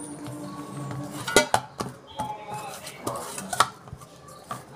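Chocolate biscuit dough mixed with milk is worked by hand in a bowl, with irregular close knocks, clinks and scrapes against the bowl and soft sticky handling in between, with no speech.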